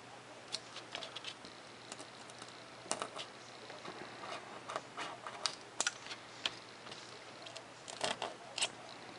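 Scissors snip through printed paper plans for a micro X-47B drone's thrust tube, a close, quiet run of crisp irregular cuts and paper rustles with short pauses between strokes.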